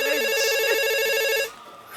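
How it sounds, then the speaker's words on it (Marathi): A telephone rings in a Marathi comedy skit with a bright electronic ringtone, one loud burst that stops after about a second and a half. "ताईंचा फोन आहे, मी कशाला उचलू?"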